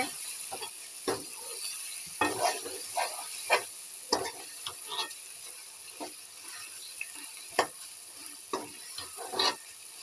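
Goat meat browning in a pan, stirred with a spatula that scrapes and knocks in irregular strokes over a quiet background sizzle, heard up close without speech.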